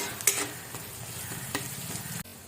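Onion fries in a pan, a close, continuous sizzle with a few sharp clicks of a spoon scraping and stirring.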